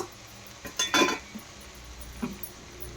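Mixed vegetables being stirred in a pot, with a few clinks and scrapes of a utensil against the metal and a short burst of clattering near the start, then quieter scraping.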